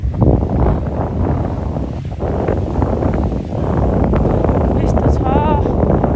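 Wind buffets the microphone with a steady, roaring rumble during an outdoor morning walk, while someone talks over it throughout.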